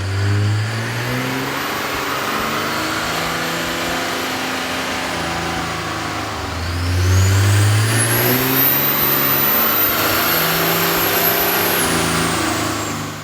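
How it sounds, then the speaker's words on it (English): A 2003 Dodge Ram 2500 pickup with a 5.9L diesel and an aftermarket air intake kit runs on a dyno, its steady engine drone and intake rush swelling louder midway as revs climb, continuous and close with no talking. "With the kit installed, we ran the vehicle on the dyno to test the sound comparison versus the stock intake."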